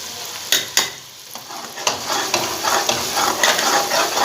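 Tomatoes and green chilies frying with meat for kaddu gosht, two sharp clanks of a spoon on the pot, then a steady close sizzle under repeated scraping stirs, with no voices.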